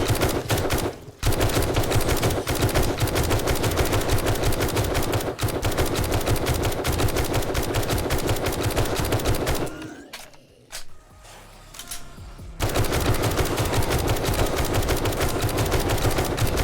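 Rapid, sustained automatic gunfire in the survival game 7 Days To Die during a horde night, loud and continuous, breaking off briefly for a couple of seconds before the rattling bursts resume.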